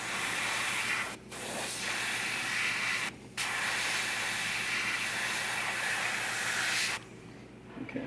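Airbrush spraying paint onto a quarter-scale Hellboy figure, a steady close hiss of air and paint broken by two brief pauses and ending in a quieter stretch.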